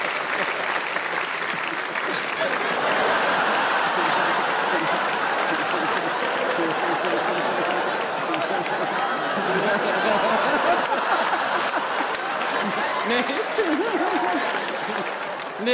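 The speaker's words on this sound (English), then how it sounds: "Big round of applause for Nick, please." A theatre audience at a live comedy stage show applauds steadily and loudly for about sixteen seconds, a dense continuous wash of clapping with scattered chuckles and murmurs from the crowd mixed in.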